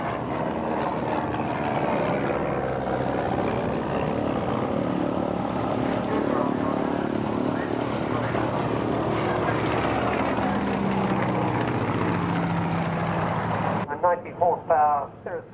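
A vintage propeller aircraft at a 1998 British airshow gives off a loud, continuous engine drone for about fourteen seconds before the sound cuts away abruptly.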